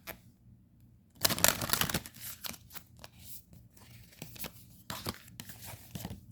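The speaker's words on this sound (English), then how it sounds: "So I'm going to give it a couple shuffles before" A new tarot deck is shuffled by hand in a few bursts of riffling and crisp card slaps, close and fairly quiet, with short pauses between.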